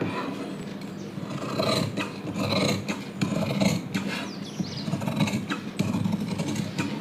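Scissors cut through blouse fabric for a cross-cut blouse in steady rasping strokes, a close, continuous snipping and rubbing texture with no talking.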